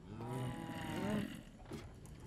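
A cow in the Minecraft video game gives one drawn-out low moo, fairly quiet, followed by a faint short sound and light background noise, with no talk over it.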